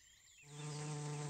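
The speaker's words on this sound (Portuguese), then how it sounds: "Isso não é uma abelha de mel, é uma vespa." A cartoon wasp buzzes in an animated children's show about a forest ranger, a steady droning hum that swells in after a brief quiet start and holds loud and close to the end.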